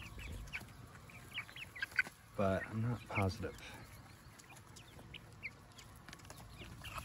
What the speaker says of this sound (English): I think this is a rooster.